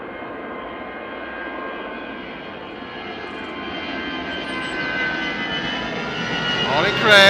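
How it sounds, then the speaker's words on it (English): An EasyJet Airbus A320 departs Liverpool Airport, its jet engines roaring steadily and building toward full power, loud and sustained with a rising whine at the end, while a voice talks over it. "This is the A320 from EasyJet off to Berlin."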